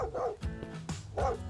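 A dog barks in the survival game Mist Survival, with several gruff barks at close range over game background sounds.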